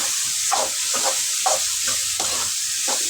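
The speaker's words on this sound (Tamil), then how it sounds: "மீன் மேகர் கொட்டிட்டு அதில் நல்லா கலந்து விட்டுடுவோம்" Soya chunks (meal maker) stirred in a frying pan, a loud steady sizzle with repeated scraping strokes of the spoon every half second or so, no voices.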